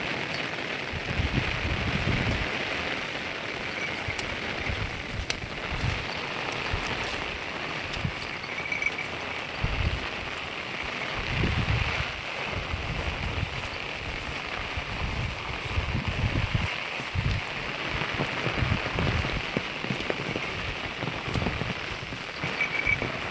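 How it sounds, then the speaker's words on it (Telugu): Heavy rain pours steadily on a rural farm where buffaloes are grazed, a loud continuous wash of drops and splashes with deeper thuds of water striking surfaces, unbroken throughout and without speech. "ఓ అమ్మో ఇదేం వానరా బాబు"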